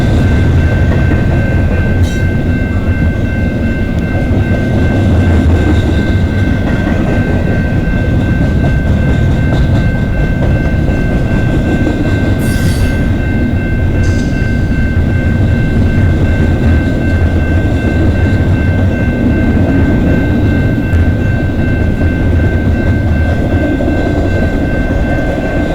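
Train rolling through London East Yard in October, a loud, close, continuous rumble of railcars with rhythmic wheel clatter and a steady high squeal, lasting the whole stretch with no voices.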